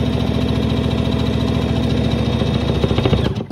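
A Baby Lock Verve sewing and embroidery machine stitches at steady speed, a loud, even mechanical whir with a fast regular pulse, ending abruptly as it stops.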